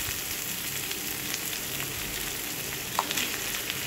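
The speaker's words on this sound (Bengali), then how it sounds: "তো ঢাকনা খুলে আবার নেড়ে নিচ্ছি।" Spring vegetables fry with ginger-cumin paste and spices in an uncovered pan and are stirred. A continuous crackling sizzle carries a few faint utensil scrapes against the pan.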